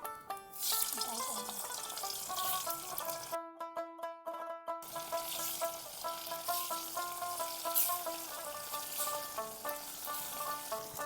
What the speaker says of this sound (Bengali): আমি এবারে ডিম আর বাঁধাকপির পনিরগুলোকে ভেজে নিচ্ছি